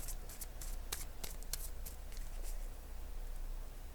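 Tarot cards being shuffled and laid down by hand, a series of crisp riffling snaps and soft flicks in irregular rhythm, close and clear over a quiet room.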